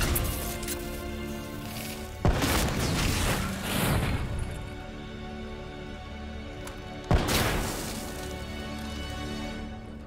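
Two heavy blasts in Call of Duty Black Ops III on Hardened difficulty, each a sudden loud crack followed by several seconds of rumbling debris and echo, set amid a constant low battlefield drone.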